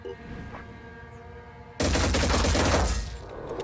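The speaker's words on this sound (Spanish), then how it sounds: "Vamos a ir disparando a esta torre." A sudden loud fusillade of gunfire erupts against a tower in the video game Phoenix Point, a sustained rattling barrage after a quieter stretch of ambient game sound.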